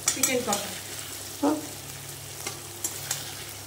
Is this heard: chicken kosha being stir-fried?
yes